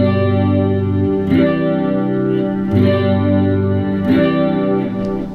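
An RJ Guitar Broadcaster SE Plus electric guitar on its neck humbucker pickup, played through chorus-like effects with sustained ringing chords that change every second or so, full and loud with no voices.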